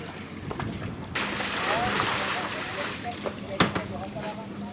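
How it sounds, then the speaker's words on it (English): Water pouring into a leaking, sinking sailboat just after launch, a continuous near rushing and splashing wash with a voice speaking over it and a few knocks. "Whoa, the water is rushing quick."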